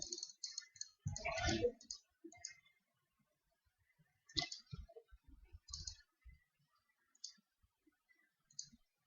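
Clicky keystrokes on a computer keyboard while entering items into accounting software, quiet and close, in short bursts of typing with pauses between.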